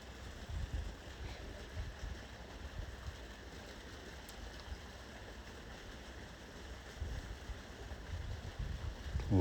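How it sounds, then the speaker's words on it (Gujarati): Strong gusty wind of a storm roars steadily in the open, a broad rushing noise with low rumbling buffets that swell near the start and again at the end, with no voices. "ત્યાંથી આગળ નીકળ્યા ત્યાં આવી ગયું બહુ જોરદાર પવન ને વાવાઝોડું."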